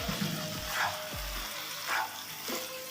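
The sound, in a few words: turnip bhujia frying on high heat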